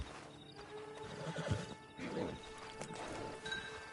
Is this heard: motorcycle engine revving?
no